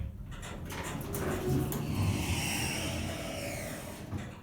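A worn Schindler 400AE elevator in the Bakery Living Orange building in Shadyside, Pittsburgh, with its doors sliding and its motor running as a steady, close mechanical whir and rumble that lasts the whole stretch.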